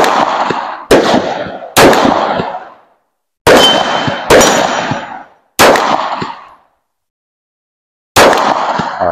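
Gunshots ringing on steel targets at a shooting range, fired with a pistol fitted with a Cyelee CT 2 red dot optic. Seven loud, sharp metallic clangs ring out at uneven intervals, each decaying quickly.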